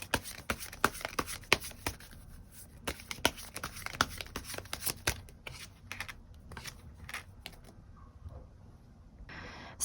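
Tarot cards being shuffled and drawn for an extra card, a quick run of crisp riffling snaps and slaps close up that thin out toward the end, no talking.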